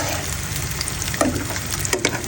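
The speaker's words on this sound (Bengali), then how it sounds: "আলুগুলো একটু তেলের মধ্যে আলুগুলো একটু ফ্রাই করে নিচ্ছি" Small local potatoes frying in oil for a pigeon curry, a steady broadband sizzle with a few soft stirring clinks near the end, close and moderately loud with no voices.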